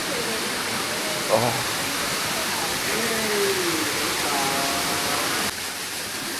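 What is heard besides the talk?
waterfall rushing in Chinese border town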